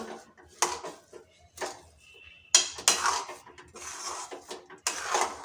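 Cardamom powder is worked into semolina dough in a pot with scattered bursts of scraping and clinking from a utensil against metal, close and fairly quiet with pauses between strokes.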